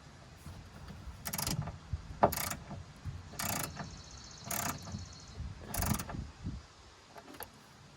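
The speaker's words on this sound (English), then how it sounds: "torque them down just a bit with the little wrench here" A small wrench ratchets as it tightens the bolts on a 1999–2006 Chevy Silverado / GMC Sierra door check, giving five short bursts of clicking spaced about a second apart, close and moderately loud over a quiet background.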